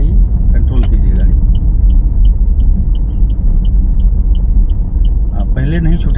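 A car drives steadily during a driving lesson, its engine and road rumble loud and continuous throughout, with a faint rhythmic clicking, likely the indicator, and an instructor's voice over it at the start and end.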